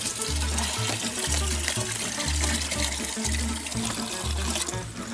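Water runs steadily into a container for goats at a snowy watering spot, a continuous trickling pour heard close up over a low pulsing hum.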